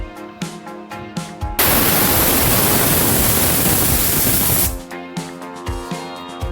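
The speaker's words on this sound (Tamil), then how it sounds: "நான் வெயிட்டு போட்டதுக்கப்புறம் 4 சவுண்டு வச்சு நிறுத்திக்கிறேன்" A Hawkins pressure cooker cooking potatoes releases a loud, steady hiss of steam for about three seconds, with clattering kitchen sounds before and after the burst.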